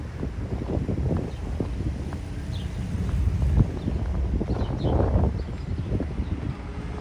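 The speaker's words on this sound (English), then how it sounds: "it's a little windy." Steady low wind rumble buffets the microphone outdoors by water with whitecaps, gusting stronger in the middle, with faint water or distant engine sounds underneath.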